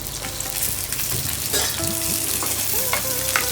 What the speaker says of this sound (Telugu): ఫస్ట్ జీలకర్ర వేగిన తర్వాతకి ఎండుమిర్చి వేసుకోవాలి